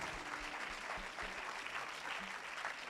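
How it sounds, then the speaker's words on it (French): Steady audience applause at a poetry prize ceremony, clapping for a young poet, a dense continuous patter of many hands, fairly faint and distant, holding evenly throughout. "on peut l'applaudir très très fort"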